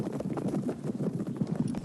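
Horses called fire mares gallop in a rapid, steady clip-clop of hooves, close and continuous for a couple of seconds.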